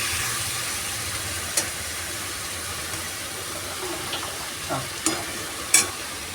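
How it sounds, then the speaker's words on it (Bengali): Potato curry simmering in a pan after a splash of water, a low steady sizzle and hiss with a few sharp clinks of a utensil against the pot, fairly quiet and unbroken by talk. "আর অল্প একটু জল ঢেলে দিলাম"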